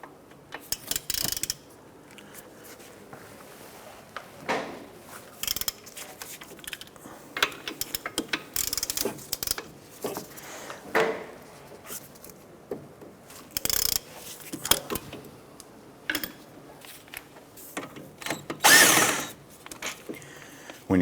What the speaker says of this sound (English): Using a 15mm socket, we're going to go ahead and remove our two caliper bracket bolts.